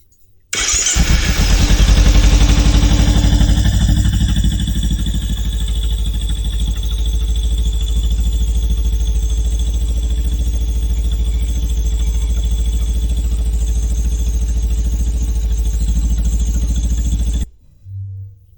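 A motorcycle engine starts and runs at a steady, loud idle close by, its low rumble continuous for about seventeen seconds before cutting off abruptly.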